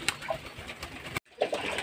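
Pigeons being given water on a very hot day coo steadily and softly nearby, a continuous murmuring chorus with a momentary gap.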